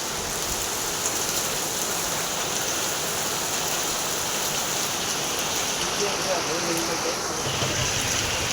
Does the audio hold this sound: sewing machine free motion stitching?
no